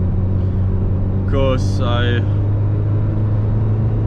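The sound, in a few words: Ferrari F355 Berlinetta engine while driving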